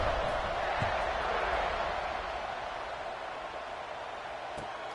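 Football stadium crowd buzzing after a score: a steady, dense roar of many voices, even and sustained throughout, like a continuous wash of distant chatter and cheering filling a large open venue.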